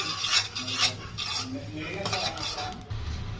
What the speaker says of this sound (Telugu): చూడండి ఫ్రెండ్స్, ఫ్లాక్ సీడ్స్ లైట్గా రోస్ట్ చేస్తే చాలు.